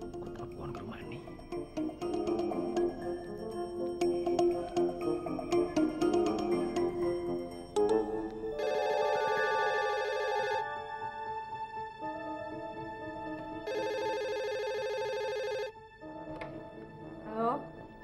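A telephone on the other end of a call gives two long ringing tones separated by a pause, heard after speech and background sound.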